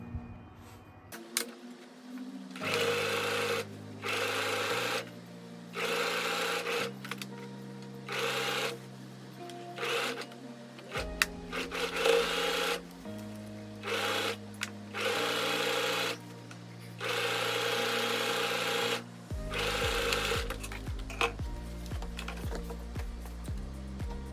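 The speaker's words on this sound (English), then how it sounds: "then you can stitch the entire front and back centre seams with a 1 centimetre seam allowance and then overlock the seam allowance" A sewing machine stitching the centre seams of elasticated-waist, wide-leg trousers runs in a series of close, steady whirring bursts separated by short pauses, the motor pitch shifting slightly between runs.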